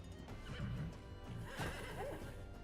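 In the video game Wartales a horse lets out a clear whinny and then a second neigh a moment later, over faint background ambience and clatter.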